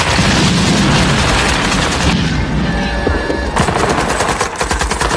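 Vietnam War film battle scene with dense, loud machine gun fire, rapid continuous bursts layered with booming shots and chaotic combat noise throughout.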